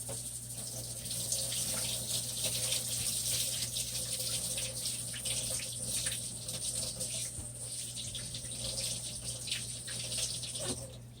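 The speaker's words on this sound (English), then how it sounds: "let me rinse off my chain one more time." A jewelry chain being rinsed under a running tap: a steady stream of water splashing and pattering into a sink, close and moderately quiet, with a constant low hum underneath.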